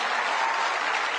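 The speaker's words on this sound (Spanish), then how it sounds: "yo quiero pedir un aplauso para sus diamantes, para Feiban y Raquel, para Raúl y Natalie" Audience applause for honored team leaders at a Spanish-language business motivational event, a dense, steady wash of clapping from a crowd, loud and sustained throughout with no voices on top.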